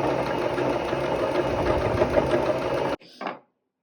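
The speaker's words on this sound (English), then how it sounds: "I'm going to keep on going to finish this quilting" A sewing machine stitches quilted seams in a fast, steady run, then stops abruptly and gives a brief final burst.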